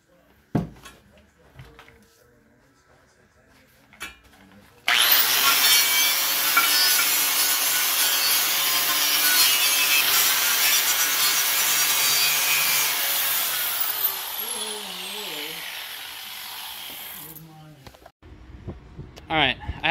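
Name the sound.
cutting the lip off a steel tank for an oil-burning stove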